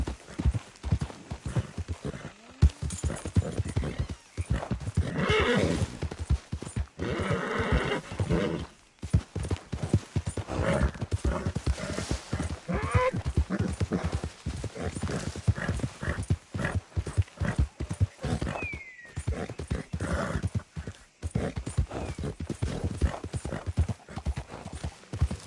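Horse hooves clip-clop steadily at a gallop in Red Dead Redemption 2, close and continuous, with occasional whinnies and snorts breaking through over roughly twenty-five seconds.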